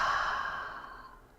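A deep, audible exhale through the mouth during yoga breathing practice, one long breathy rush that starts strong and trails off over about a second and a half, close and alone.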